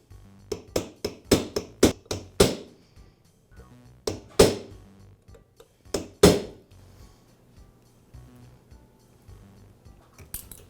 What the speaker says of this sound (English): I'll use a punch to remove the key.